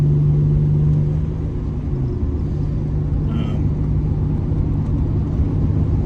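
A 2000 Ford Ranger 3.0L fitted with a Dynomax Ultra-Flo stainless cat-back exhaust rumbles low and steady at idle, a continuous deep drone close by with no voices.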